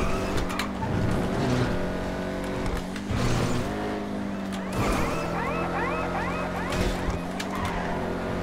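Engines roar and rev continuously with tire squeals as a race car slides in GTA 5 Online, shifting pitch through gear changes, loud and close.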